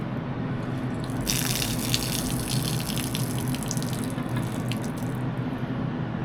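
Water spraying from the ends of farm sprayer hoses during a detergent rinse, a loud steady hissing rush that holds without a break throughout, with no voices.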